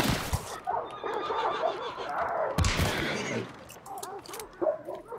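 Horse neighing in the video game Hunt: Showdown, several whinnies and snorts amid game ambience, with a dog whimpering and barking nearby and a sharp impact sound.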